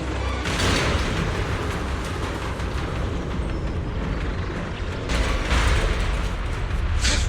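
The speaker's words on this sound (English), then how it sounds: "Explosions are becoming more frequent. This may get a little rough." Explosions in a video game, a continuous loud, dense roar of blasts and rumbling with heavier bursts at the start and again near the end, no speech.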